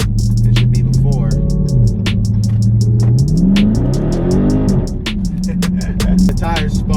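A 2019 Dodge Charger Scat Pack with resonator delete and mid muffler delete exhaust revs and accelerates loudly and close, its engine note rising and falling through repeated pulls with sharp popping crackles, some voice chatter mixed in.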